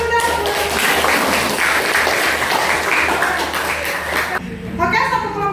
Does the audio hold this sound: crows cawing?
no